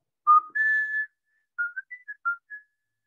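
Human whistling imitating a young bride's signal call: a longer two-part whistle followed by five short, bright chirping notes, clear and alone.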